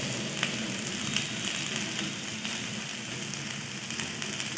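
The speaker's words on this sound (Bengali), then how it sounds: "এবার পেঁয়াজটাকে একটু লাল লাল করে ভেজে নেব।" Onions and ginger paste frying in a pan, a dense, even sizzle and crackle held steady throughout, close and fairly quiet, with faint occasional stirring and no talk.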